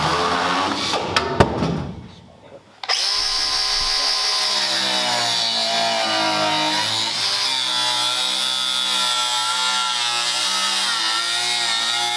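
A power tool cuts into the steel body of a 1939 Mercury car at close range, with a short burst of scraping and clatter before a loud, steady high-pitched whine that runs continuously to the end.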